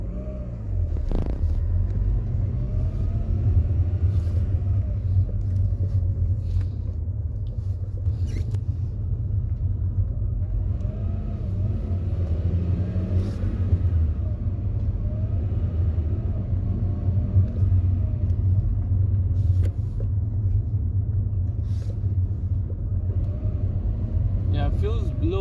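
A Honda Prelude fitted with an adjustable clutch pedal pulls away in first gear. Its steady, loud, low engine rumble drones throughout from inside the cabin.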